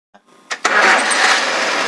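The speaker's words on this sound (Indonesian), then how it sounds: "Mas Yoga bisa di starter coba." A 2007 Suzuki Carry Futura pickup with a 1.5-litre G15 fuel-injected engine cranks briefly after a couple of clicks, then catches and runs steadily at a smooth idle, heard up close.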